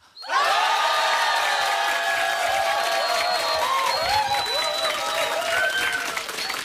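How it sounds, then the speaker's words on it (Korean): Large crowd at a live radio concert show roaring with sustained cheers, whoops and applause after a countdown, loud and continuous throughout, with some shrill shouts rising above the mass of voices. "셋 둘 하나 하면 함성 불러주시기 바랍니다"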